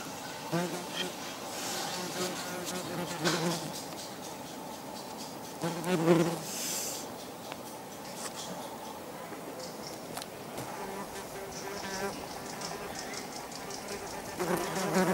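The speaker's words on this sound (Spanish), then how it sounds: "Las avispas conocen el lugar donde les doy de comer y vuelven con la despensa vacía para llenarla de nuevo" Yellowjacket wasps buzz around a meat feeding spot, several faint overlapping hums rising and fading as insects fly in and out nearby, with a soft thump partway through.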